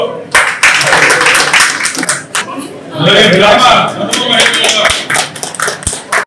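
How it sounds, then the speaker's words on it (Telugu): An audience claps at a Sankranti celebration in Dugrala village, with bursts of applause that swell in the middle, broken by short pauses and mixed with some chatter. "చప్పట్లో"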